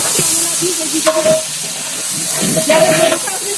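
Mutton hitting a hot pan and frying, a steady loud sizzle with hissing steam and bursts of stirring and scraping, a faint voice briefly in the background.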